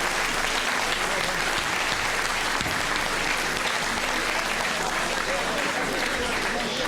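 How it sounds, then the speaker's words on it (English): Loud, sustained applause from a boxing crowd after a professional European title bout, steady clapping filling the whole stretch with a thick wash of noise and crowd murmur underneath. "Give him a big clap, and rightly so."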